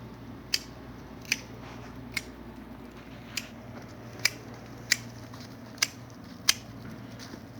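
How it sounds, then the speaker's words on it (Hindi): Pruning shears snipping rose plant branches, about nine crisp separate cuts at a steady, unhurried pace, close and clear over a faint background hum. "तो हम इसकी किस तरह प्रूनिंग करते हैं मैं आपको दिखाता हूँ।"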